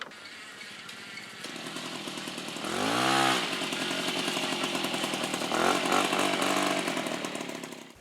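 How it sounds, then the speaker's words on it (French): Piaggio Ciao moped with a newly fitted variator, its small two-stroke engine buzzing steadily and close, rising into a sharp rev around the middle and revving again before easing off, with no talk. "j'arrive à démarrer en pédalant doucement"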